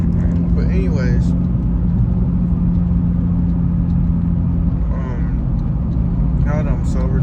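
A steady low rumble fills the cabin of a car being driven home at night and holds constant throughout, while a voice speaks over it at times.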